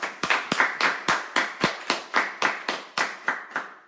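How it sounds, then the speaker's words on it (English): A single pair of hands claps about a dozen times in a steady, even rhythm as an audience is urged to applaud for Anastasia, each clap sharp and distinct, close and moderately loud with no voices. "So my advice to all of you is to clap up for Anastasia."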